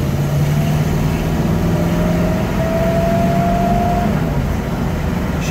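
A 1963 Chevrolet Corvette split window drives in traffic, its engine holding a steady, continuous drone with a rising tone as it pulls through the gears around 2,800 rpm, loud and close from inside the car.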